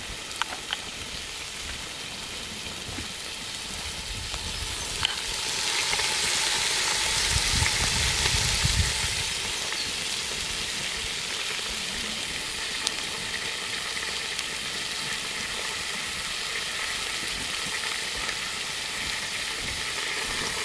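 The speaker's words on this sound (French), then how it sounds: "je vais faire roussir mes légumes pour les faire colorer un peu" Vegetables browning in a frying pan, a continuous hissing sizzle that swells briefly in the middle, with faint clinks now and then, steady and close with no talking.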